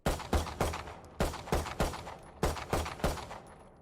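Gunfire from a weapon in Valorant, a rapid series of sharp, loud shots arriving in quick bursts of two or three with brief pauses between, close and dry, with no talking.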